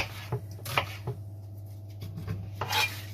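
A knife cuts a peeled vegetable into rough chunks on a board, giving a few sparse, quiet knocks and scrapes with short gaps between strokes.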